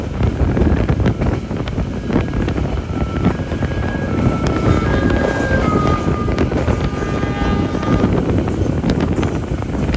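Malioboro Ekspres economy passenger train running on rails between Blitar and Malang, heard from inside as a steady, loud rumbling roar with rushing wind-like noise and faint tonal squeals.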